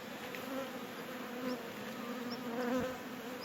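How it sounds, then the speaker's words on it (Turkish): A dense, steady buzzing of a honeybee colony about to swarm fills the air, a continuous droning hum with some wingbeat tones drifting closer and farther. "arımız oğla gidiyor"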